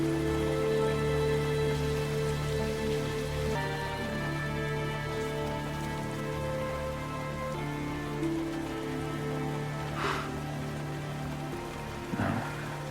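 Gentle rain falls steadily as a soft, even patter, with a low sustained tonal hum beneath it and no voices.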